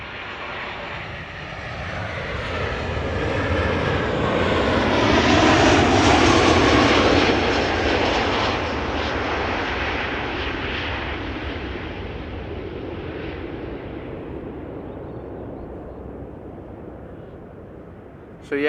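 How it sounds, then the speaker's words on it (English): Wide-body jet, a Boeing 777 or Airbus A330, on arrival at Amsterdam Schiphol runway 06, a loud broad engine roar swelling to a peak mid-pass and then slowly fading as it moves away. "there is also a 777 and I think also an A330 that are coming in"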